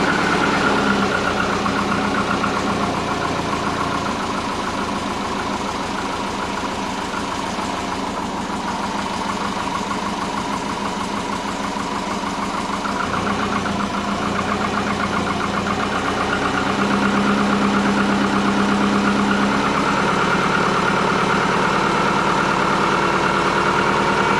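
A big-turbo Subaru Forester engine runs at a steady idle for about twenty-four seconds, a close, continuous rumble with a faint rough ticking and a slight swell partway through, with no voices.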